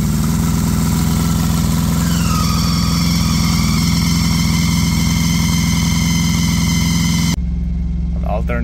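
Green Perkins APU engine runs at a steady, loud idle with a constant low drone and a faint whine from a belt-driven compressor, cutting off sharply near the end; no talk.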